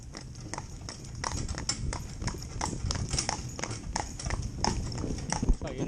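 Hooves of a young cob horse clip-clop at a trot in an even, steady two-beat rhythm, close and distinct across the whole stretch, with a low continuous background beneath.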